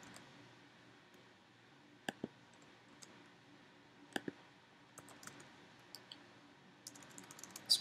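Sparse, faint clicks and key taps on a computer keyboard, arriving as isolated single strokes and small pairs before a quicker run of several taps at the end, with no talk.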